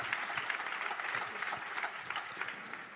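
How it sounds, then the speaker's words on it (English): Light scattered clapping from a live comedy show audience, soft and fairly distant, continuing steadily without a peak. "Light applause."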